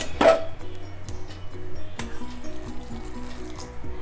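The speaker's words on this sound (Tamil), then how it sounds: "இன்னும் கூட தண்ணி பத்தலை, இன்னும் கொஞ்சம் ஊற்றிக்கலாம் நம்ம." Water is poured into rice flour to make idiyappam dough in a home kitchen, with a brief splash at the start and then quieter trickling close by.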